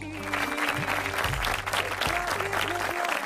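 Applause for a female judge on a televised singing competition stage, a dense burst of clapping lasting a few seconds with crowd noise and some low musical tones underneath.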